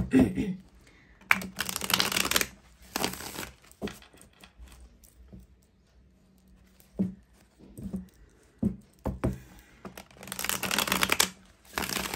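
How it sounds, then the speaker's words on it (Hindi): A deck of tarot cards is shuffled in several bursts of rapid, papery riffling and flapping, close by, separated by quieter handling sounds and pauses. "मैंने कर ली है कार्ड्स की सफरिंग"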